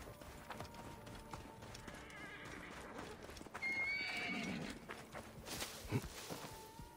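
A horse in Assassin's Creed Origins neighs mid-clip over a continuous bed of clip-clopping hooves and game ambience, followed by a low snort or thud near the end.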